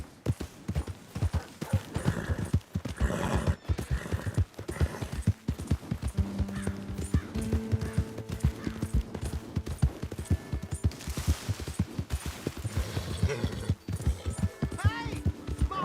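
Horse hooves clip-clopping in Red Dead Redemption 2, a steady run of close hoof beats with scattered game sounds and a short whinny near the end.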